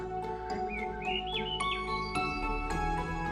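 An unidentified wild bird out in the White Mountains gives a tinkling, wand-like call, a quick rising and falling series of bright chiming notes over a sustained ringing, melodic backdrop, with no voices.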